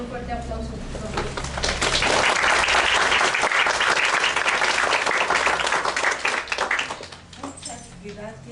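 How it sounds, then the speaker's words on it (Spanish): A seminar audience gives a speaker a strong round of applause that swells into dense, sustained clapping, then fades out, with a voice briefly audible before and after. "démosle un fuerte aplauso, por favor."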